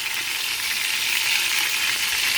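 Ground beef sizzling with a spice blend in a cast iron pan, a steady, loud, close frying hiss with no talking.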